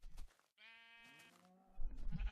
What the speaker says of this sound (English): Enderman just hanging out with the sheep, harassing them.